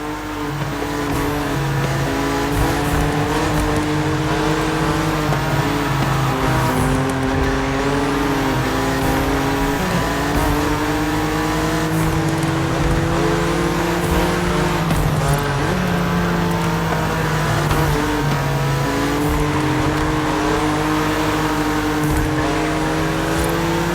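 Loud, continuous engine drone of a racing car in The Crew Motorfest, with rising and falling revs through gear changes and intermittent tire squeal during cornering, dense and close with no talk.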